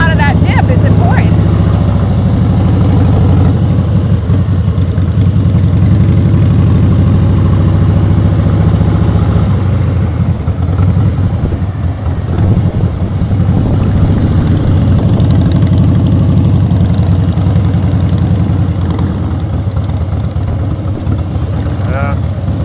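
A black Harley-Davidson Fat Boy motorcycle engine runs loud and steady throughout, a continuous low rumble with some throttle swells, close to the listener and with no talk over it.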